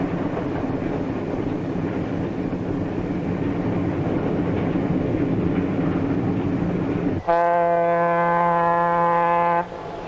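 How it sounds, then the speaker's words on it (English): A 1955 passenger train rumbles steadily along the rails for several seconds, then a loud, sustained horn blast sounds close by near the end. "While the train speeds into the dusk"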